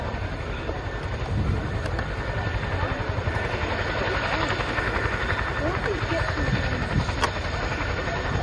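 A Chinook twin-rotor helicopter manoeuvring at a military air show gives off a loud continuous throbbing rotor roar with dense rhythmic chopping that holds steady throughout, while a commentator talks over it.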